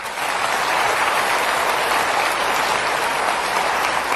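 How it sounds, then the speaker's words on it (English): A seminar audience applauds, a dense, steady wash of clapping that carries evenly from start to finish, loud and close with no pauses. "Give them a good clap."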